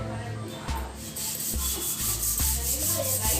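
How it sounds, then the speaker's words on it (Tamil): A wet scrubber is rubbed hard over bathroom tiles with salt water, producing loud, close, rhythmic back-and-forth scraping strokes, each lasting under a second. "அந்த ஸ்க்ரப்பரை மட்டும் லைட்டாக தண்ணியில் நனைச்சிக்கிட்டு நல்லா தேய்ச்சி விட போகிறேன்."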